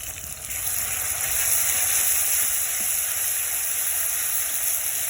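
A garlic, ginger and cumin paste fries with browned onions in a pan, making a continuous dense sizzle that swells after the first half second and holds steady, close and fairly loud, with no talking.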